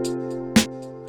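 Live-style hi-hat from the Nexus 3 plugin with a chugging groove, soft ticks around one sharper accented hit, layered over a held tonal pad, short and close with no talking.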